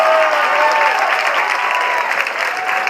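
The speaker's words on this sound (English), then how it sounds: "Let's give these young people a huge round of applause" Applause from a school audience at a high school academic achievement celebration for the Class of 2015, a dense, steady wash of many hands clapping continuously at close range with crowd noise mixed in.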